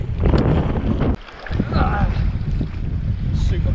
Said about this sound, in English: Super paddling now.